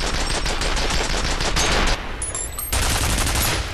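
A big gun fires continuously in the video game F.E.A.R., a loud, dense roar of rapid shots filling the whole stretch, briefly dropping out for a moment before the fire resumes.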